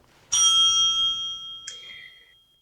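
A debate timer bell dings sharply once, its bright ringing tone decaying, then a second lighter ding sounds shortly after; no voices.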